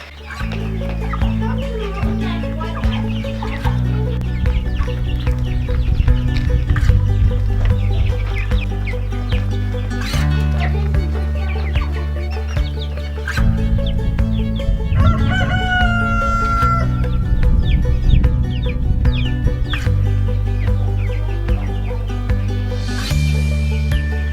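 Chickens cluck and a rooster crows repeatedly on a homestead, close and loud, with steady clucking throughout and several clear crows rising above the flock.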